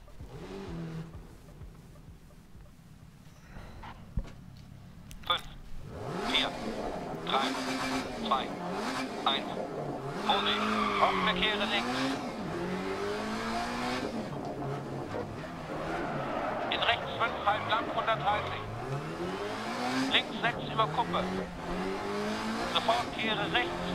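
A rally car in Dirt Rally on a Monte Carlo stage revs through its gears with rising and falling engine whines, and tires squeal and skid in bursts, while someone talks over the driving.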